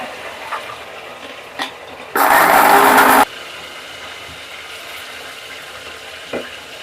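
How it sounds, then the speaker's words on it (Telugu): A mixer grinder whirs through coriander seeds, fenugreek and coconut masala in one loud, roughly one-second burst, standing out sharply against a quiet kitchen background. "మసాలా మిక్సీ వేసుకోవాలి. ధనియాలు, మెంతులు,"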